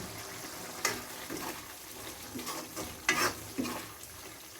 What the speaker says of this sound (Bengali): মশলাটা নেড়ে চেড়ে দিতেছি আমি।